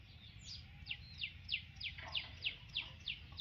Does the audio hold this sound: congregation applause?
no